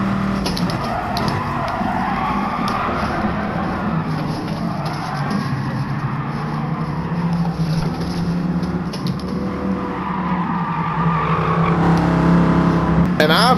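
A Dodge Viper in the video game GT Sport slides around a race track, its engine droning steadily with tyre squeal and skidding rising toward the end, while someone talks over it.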